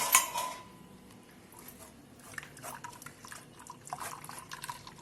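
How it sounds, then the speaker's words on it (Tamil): Bitter gourd juice is filtered and poured into cups, with clinking glassware and a faint liquid trickle opening loudly, then soft scattered clatter and drips in a quiet room. "ஜூஸ் வந்துட்டு ஃபில்டர் பண்ணி நமக்கு ஊத்துறாங்க உள்ள"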